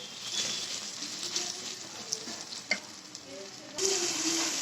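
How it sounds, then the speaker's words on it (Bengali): Onion with ginger, garlic, chili and turmeric fries in a pan for a prawn curry, giving a close, steady sizzle with occasional stirring clicks and a louder surge of frying near the end, with no talking. "এটাতে আমি সুন্দর করে একটু কষিয়ে নেব"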